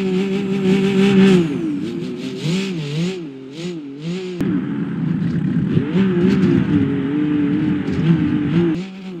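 A monster truck engine in the driving game BeamNG Drive revs loudly and continuously, its pitch rising and falling in wavering surges, with no talk over it.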